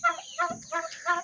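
Domestic turkeys on a farm give short repeated gobbling clucks, about four rhythmic bursts, close and clear with no talk.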